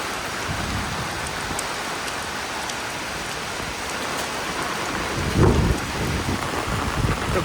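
Torrential monsoon rain pours down in a dense, steady roar, with a deep rumble of thunder swelling briefly near the end, loud and enveloping, with no voices.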